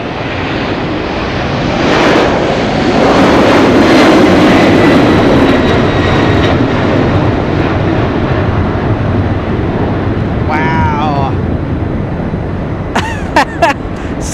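A Boeing 747 taking off on a long flight to Brussels at Los Angeles, its engine roar swelling and staying loud and close for the whole stretch, with a few brief clicks near the end.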